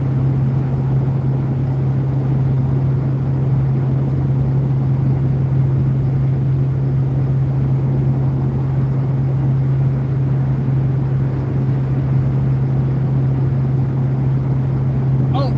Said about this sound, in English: just cruising down the highway